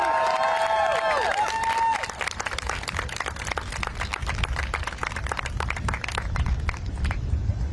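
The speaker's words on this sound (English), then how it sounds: "Another round of applause for that speaker, everybody." A crowd at a student protest at Howard University in Washington, D.C., breaks into sustained applause and cheering for a speaker, dense clapping filling the space after a brief shout at the start.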